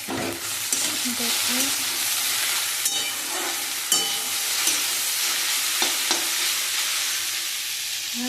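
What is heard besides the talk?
okra frying and being stirred in pan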